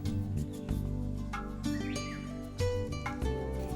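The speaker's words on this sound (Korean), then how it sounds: "여기에 지저귀는 새소리까지 더해져" Birds chirp and call in the Jeju forest. The sound is thin and scattered over a steady low background, with no voices.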